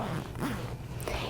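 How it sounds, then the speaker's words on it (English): A hidden zipper on a plush stuffed animal is pulled open in one short, close, continuous rasp lasting just over a second. "There is a hidden zipper that you simply unzip"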